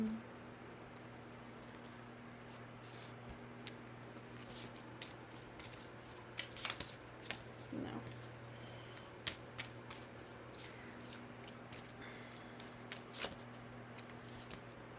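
Tarot cards being shuffled by hand, a soft intermittent patter of riffling and sliding cards in short bursts over a low steady room hum, close and quiet with no talk.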